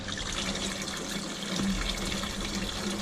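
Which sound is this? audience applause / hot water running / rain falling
hot water running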